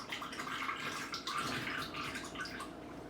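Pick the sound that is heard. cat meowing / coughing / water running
water running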